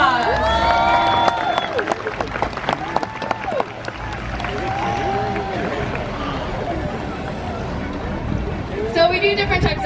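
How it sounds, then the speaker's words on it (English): Audience applause at an orca show at SeaWorld San Diego, with a continuous steady patter of clapping, faint cheering and splashing water, while a trainer's amplified voice and whistle-like tones carry over the crowd. "Why don't they all give him a big round of applause?"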